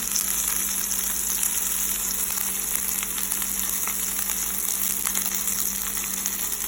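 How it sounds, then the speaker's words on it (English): A ribeye steak sizzles steadily in a hot pan on a stovetop, a constant crackling hiss with occasional sharper pops, close and continuous with no talking. "our steak is sizzling away over here"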